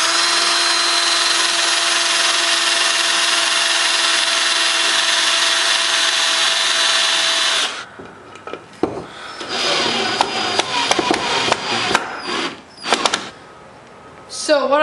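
A washer-head screw is driven into a homemade hockey puck rebounder with a power driver: a loud, steady whine lasting about eight seconds, then a run of clattering knocks and handling rattles.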